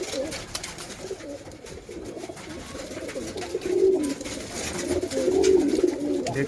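Andhra pigeons at a home loft coo in low rolling calls under a bright, hissy background, growing a little louder toward the end.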